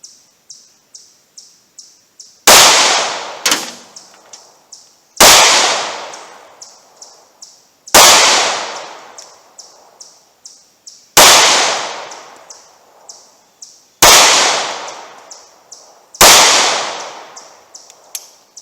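Short-barrelled handgun firing FMJ ammunition, seven loud sharp gunshots about evenly spaced, each ringing out, with faint chirps between them.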